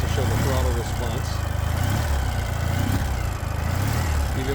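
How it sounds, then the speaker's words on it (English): A Ural Patrol motorcycle's 749 cc twin engine, a 2014 model still relatively cold, idles with a steady low rumble, rising briefly under a couple of light throttle blips, close and loud throughout. "Give it a couple very light revs just to show the throttle response."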